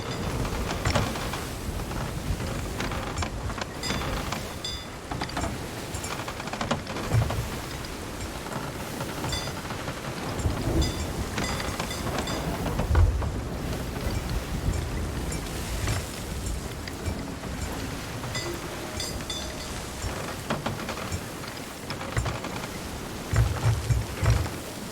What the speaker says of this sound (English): Tried to avoid the storm and instead I've just sailed right in the middle of it.